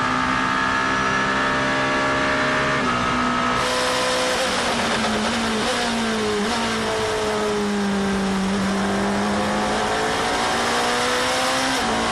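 A number 8 Toyota race car passes two Porsches at Monza during a 6 Hours endurance race, engine tones sweeping up and down as the cars go by, blended with a steady loud roar of other racing engines.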